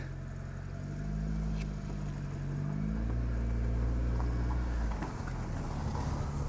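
A Nissan Primera P12 car drives with its bonnet up, a steady low engine rumble and road noise holding throughout with slight swells in pace, no voices.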